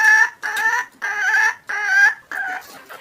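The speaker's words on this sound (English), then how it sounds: "They peck at grain, drink water, cackle and lay eggs." Hens in a farmyard clucking and cackling close by, five or six drawn-out calls in a steady rhythm separated by short gaps, clear and alone.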